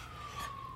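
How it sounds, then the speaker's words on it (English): A distant siren holds a single steady tone in the background on a cold evening, faint and brief, ending as a louder noise cuts in. "there's a siren in the background."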